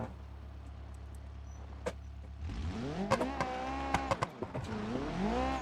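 A drag car's engine strains and revs with sharp tire squeals in BeamNG.drive, loud, rising and falling tones joined by repeated screeches and clunks, with no talking.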